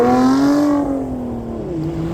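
A Ford Mustang drives past on a road leaving a car show, its engine note falling steadily as it goes by, fairly close and loud with no voices.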